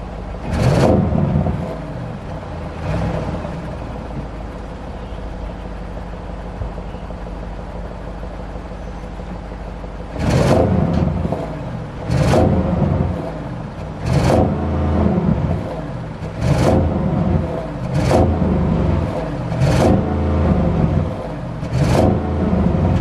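A new 2020 Audi RS6 revved in neutral against its limiter, a quiet idle hum broken by sharp loud blips, first two then a rapid run of about six, each snapping up and falling back.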